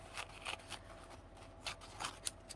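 Scissors snip through a playing card being trimmed into a tag, a quiet close series of short crisp cuts in an irregular rhythm, about half a dozen snips, with no talking.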